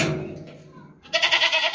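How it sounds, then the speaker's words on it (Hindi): A heavy, healthy billy goat bleats loudly in a long, wavering cry that rises into a bright, strained burst after a brief pause, close to the listener with no talk over it. "बहुत ज़बरदस्त बकरा है भाई, वज़न वाला बकरा है"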